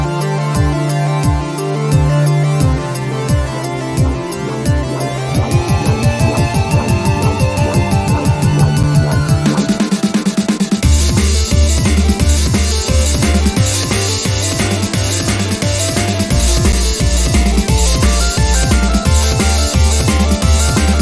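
Track, a drum and bass, housebreaker-style cut, playing loud and continuous in a live DJ set, with a thumping beat and dense layered synths that build and shift midway.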